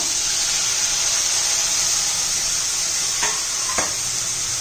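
Finely chopped tomatoes hit a hot pan for tomato chutney, setting off a loud, steady hiss of sizzling that fills the whole stretch, with two brief clicks of a utensil near the end.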